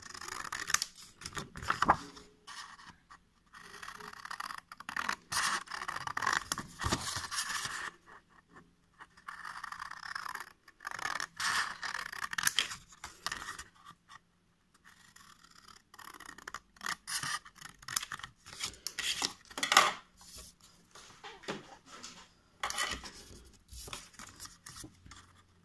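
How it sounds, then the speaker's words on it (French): Scissors snip through paper while cutting out tangram pieces, giving quiet, irregular clipping and scraping sounds in bursts, close by and with no talking. "Ensuite, on va venir découper nos pièces."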